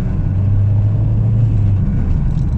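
A truck engine and exhaust rumble loud and low in street traffic in Lomas Verdes, Naucalpan, State of Mexico, a close, continuous throaty drone with no talking.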